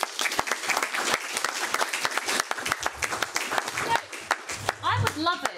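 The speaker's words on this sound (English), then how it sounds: "Put your hands together for Stella Duffy." Applause from a live audience at a short story reading event as Stella Duffy comes to the stage, with dense, steady clapping throughout and a few voices and whoops near the end.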